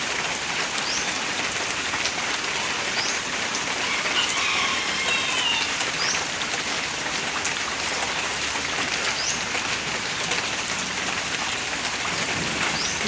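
Sudden summer rain pours onto garden plants in a steady, dense patter, close and continuous, with faint scattered drips standing out over the constant hiss.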